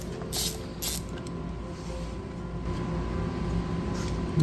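A ratchet wrench with a socket turns a nut on an air-cooled Porsche engine during a teardown, giving two quick ratcheting bursts followed by a low mechanical creaking hum, close up.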